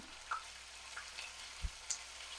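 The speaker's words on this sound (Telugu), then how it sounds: "ఈ పేస్ట్ వేసి వేగనిద్దాం" Faint, quiet sizzling of something frying in oil, with a few soft ticks and a light tap, no voices.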